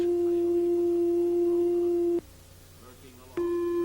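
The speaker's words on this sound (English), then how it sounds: "This is a sine wave." An electronic oscillator sounds a pure, steady sine-wave tone that cuts off abruptly for about a second, then resumes at the same pitch, with a low hum underneath.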